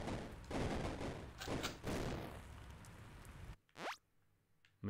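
In the video game Desert Child, a machine gun fires a fast, dense burst at moderate loudness. It then cuts out to near silence, followed by a quick descending zap and a brief final blip.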